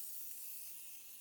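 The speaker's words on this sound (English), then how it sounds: "we went in with the Morph setting spray" Morphe setting spray misted from a bottle onto a face during a makeup session, a soft steady airy hiss lasting about a second, close and fairly faint with no voices.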